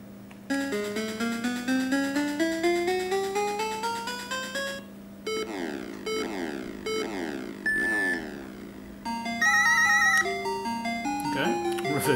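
Bright chiptune title music from Zippy Race on the Sega SC-3000, with fast beeping square-wave arpeggios climbing in steps, then shifting to choppier repeated phrases over a steady low tone, loud and continuous.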